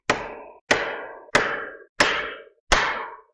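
Five sharp, evenly spaced hammer blows drive a wooden rafter into place on a ridge board. Each is a loud, close whack with a short ringing tail, and no one speaks.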